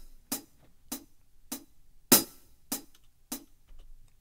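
A metronome click track playing in Cakewalk, six evenly spaced sharp clicks about 0.6 seconds apart. The fourth click is accented and brighter, and the clicks are fairly faint and heard alone.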